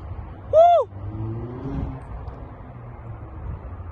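A car passes on a city street as a low, rumbling wash that swells and fades over a few seconds, with a short rising horn-like tone near the start.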